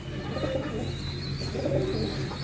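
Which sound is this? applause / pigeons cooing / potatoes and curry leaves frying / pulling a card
pigeons cooing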